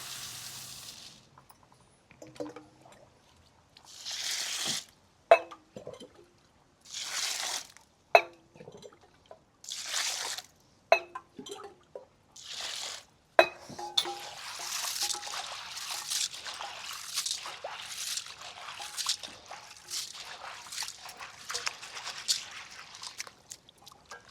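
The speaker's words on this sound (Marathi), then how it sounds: "आपण हरभऱ्याची डाळ दोन ते तीन पाण्याने स्वच्छ धुवून घेऊया" Intermittent bursts of trickling, splashing water as chana dal is washed, growing more frequent toward the end, with faint rustling in between; no talking.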